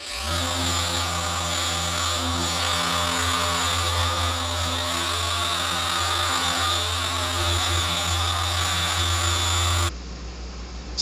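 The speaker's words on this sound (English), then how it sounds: "when I'm using this DA polisher, I'm not using a lot of pressure" A dual-action polisher works over car paint with light pressure, a loud continuous droning whir with a cycling mechanical hum, running steadily close by before cutting off abruptly near the end.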